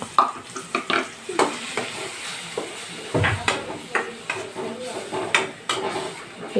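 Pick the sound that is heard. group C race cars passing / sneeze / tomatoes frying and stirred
tomatoes frying and stirred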